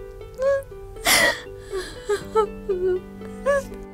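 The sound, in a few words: woman crying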